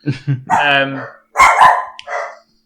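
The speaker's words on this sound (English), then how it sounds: "Oh, just the dog's barking." Several close, sharp dog barks in quick bursts, with short pauses between them.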